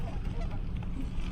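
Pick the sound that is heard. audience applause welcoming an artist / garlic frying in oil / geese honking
geese honking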